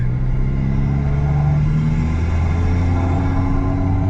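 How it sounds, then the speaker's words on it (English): Stock car engine with its factory blow-off (diverter) valve, revving lightly under barely any throttle; a steady, loud, close low rumble that holds without pauses. "And that's barely getting on the throttle. That's the stock blow-off valve, or the stock diverter valve."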